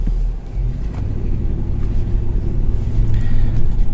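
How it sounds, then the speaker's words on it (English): A 2000 Ford Expedition SUV with about 200,000 miles pulls out and accelerates smoothly, its engine rumbling steadily close by and building a little toward the end, with no voices. "So nice and smooth acceleration, something I always test."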